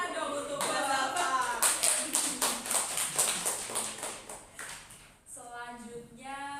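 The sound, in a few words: group applause for Mbak Zalfa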